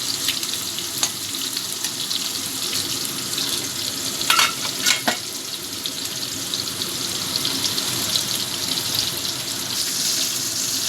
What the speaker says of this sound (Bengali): আমার একটা পাশ ভাজা হয়ে গেছে, উল্টে দিচ্ছি মাছগুলো।